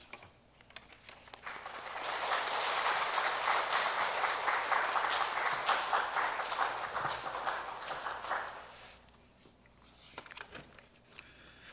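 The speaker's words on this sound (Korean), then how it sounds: "박수로 모시도록 하겠습니다." Church congregation applauding to welcome a returning missionary at a Wednesday service, clapping building quickly to a full sustained round for several seconds, then tapering to scattered claps.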